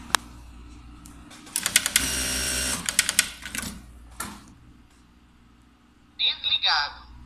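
A Jack A4 electronic straight-stitch sewing machine runs in a fast, dense stitching burst of about two seconds, then gives a few sharp clicks. Brief higher electronic tones follow near the end.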